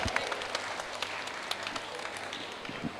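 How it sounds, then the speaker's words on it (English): A small audience claps steadily in a room during a live talk on food labels, a thin, continuous patter of hands at moderate distance with no voices over it. "clap, clap, clap."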